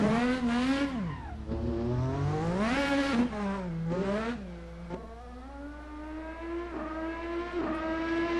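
Formula-style race car in the VRC Formula NA 2018 racing sim, engine revving up and down through gears with rear tires squealing and scrubbing, loud and close throughout with no talk.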